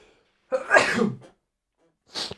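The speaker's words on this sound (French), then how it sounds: "je suis désolé pour les éternuements" A person sneezes once, loudly and up close in a quiet room, and a short second burst of breath or sneeze follows about a second later.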